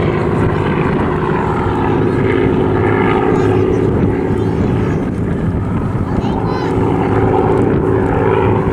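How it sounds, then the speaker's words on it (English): Hawker Hurricane LS363, a 1944 Langley-built fighter, flying a display at Southport Airshow; a steady, loud propeller engine drone holds throughout with an announcer's voice running over it. "Please welcome squad leader Mark Sugden for Hurricane LS363 onto the display line."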